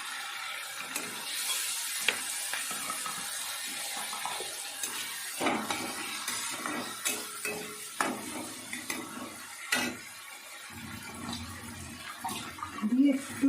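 Water poured into a pan of spice mixture frying with salt and turmeric, giving a sizzling splash and bubbling with stirring scrapes and clinks, moderately close, with some kitchen background noise.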